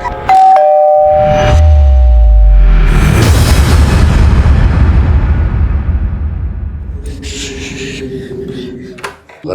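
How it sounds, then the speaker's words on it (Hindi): A very loud, deep explosion booms and rumbles, its roar slowly fading over several seconds after a ringing chime at the start. "आपके घर से बड़े जोर के धमाके की आवाज आई है"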